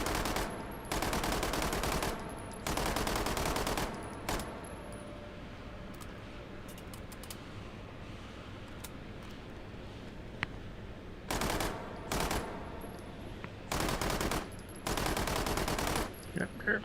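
Unsuppressed automatic gunfire in the VR shooter H3VR, several loud sustained bursts separated by quieter gaps, with a few isolated single shots between them.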